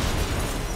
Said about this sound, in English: that's a cute explosion